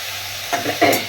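Chopped bathua greens fry with garlic, nigella seeds and dried chilli, giving a brief close stir and sizzle over a steady pan hiss, with no talk.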